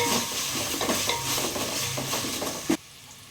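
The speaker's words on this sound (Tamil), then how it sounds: "இஞ்சி பூண்டு சேர்த்து நல்லா ஒரு பச்சை வருஷம் போகிற அளவுக்கு நல்லா கிளறி விட்டுக்கலாம் இந்த மாதிரி" Ginger-garlic paste frying in a pan for chicken dum biryani, stirred steadily with a soft continuous sizzle and scraping strokes, ending with a sharp clank before quiet.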